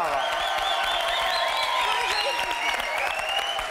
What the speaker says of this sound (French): Je voudrais quand même qu'on applaudisse fort, fort, fort Laurence et Jérémy.